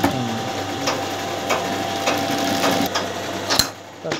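Sewing machine running a double line of stitching on a shirt sleeve cuff, a steady fast whirring rattle with regular faint clicks close by, pausing briefly near the end.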